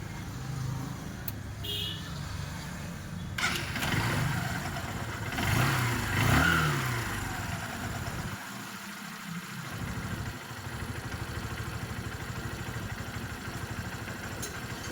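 A vehicle engine runs steadily at idle with a low rumble, briefly swelling louder before dipping and settling back to an even hum.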